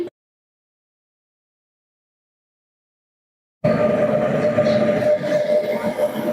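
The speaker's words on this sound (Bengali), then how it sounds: "এটা হচ্ছে আমাদের ট্রেন।" After a long silence, an Indian Railways passenger train rumbles in abruptly, a loud steady roll of wheels and carriages close by.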